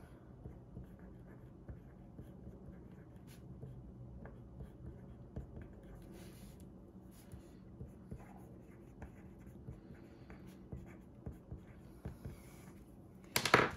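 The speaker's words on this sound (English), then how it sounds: "Let me just write that down." Pen scratches softly across paper while writing by hand in an Erin Condren A5 Daily Duo planner, a faint, steady close-up scribble with small taps of the pen, then a brief louder rustle at the end.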